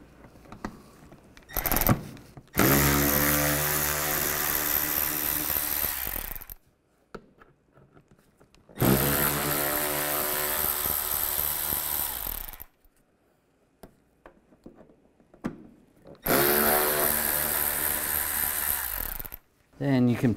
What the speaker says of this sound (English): Now from the side, we're going to take off these three screws.